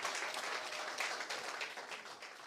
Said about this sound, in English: So can we get a round of applause for that?